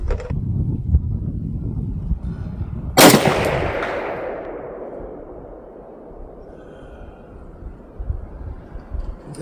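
A single sharp, loud rifle shot from a 1986 Romanian AKM (PM63) built from a parts kit, fired with open sights, rings out and decays slowly over steady outdoor background noise.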